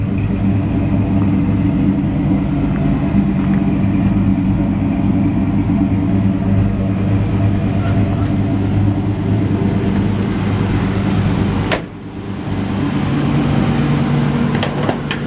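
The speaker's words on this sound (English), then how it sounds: "Let you listen to that exhaust real quick." A 1947 Ford half-ton pickup idles with a steady, deep exhaust rumble, loud and close throughout, dipping briefly near the end before settling back into the same even burble.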